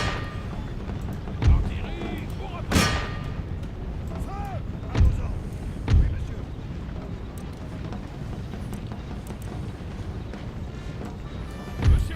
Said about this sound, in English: So now they've finally come in on me and opening up my canister shot on them.